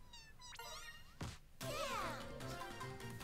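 A cartoonish cat meows in a WarioWare: Move It microgame, mixed with bright synthetic game chimes, a sliding whistle, a thwack and a bouncy electronic jingle, all quiet and with no talking.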